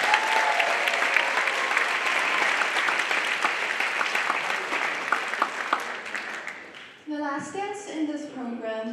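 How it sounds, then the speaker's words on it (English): A theatre audience at a stage dance show applauds the production staff with full, sustained clapping that fades out near the end, giving way to music and voices. "Let's give them a round, a round of applause as well."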